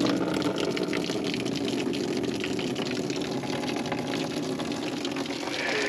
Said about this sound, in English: We have water pumping into the left run.